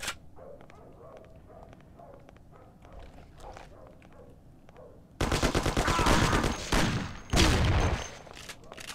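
Gunfire in the video game Mafia: after quiet ambient sound, a loud burst of rapid shots erupts and continues in dense volleys, with a short pause before more firing.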